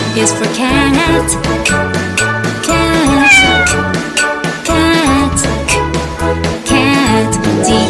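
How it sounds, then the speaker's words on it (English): Cat meows ring out within a children's alphabet song, with repeated mewing notes sitting on top of a bright, loud musical backing with tinkly accents. "C is for cat"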